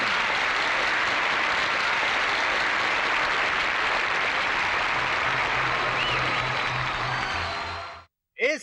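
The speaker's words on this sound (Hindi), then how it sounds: "एक बार फिर तालियों के साथ उनका स्वागत कीजिए" An audience at a school student prize-giving ceremony breaks into dense, sustained applause that welcomes a guest, staying loud and even for about eight seconds before it suddenly cuts off.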